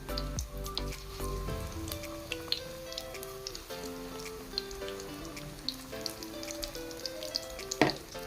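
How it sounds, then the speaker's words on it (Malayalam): Battered sweet potato slices deep frying in oil over a low flame, a steady soft sizzle with scattered crackles and pops, and one sharper burst near the end. "നമുക്ക് സ്വീറ്റ് പൊട്ടറ്റോയും നമുക്ക് ബാറ്ററിൽ മുക്കി ഫ്രൈ ചെയ്തെടുക്കാം"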